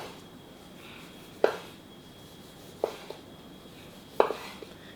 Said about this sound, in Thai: ผมจะสไลด์หมูหนาประมาณ 1-2 มิลครับ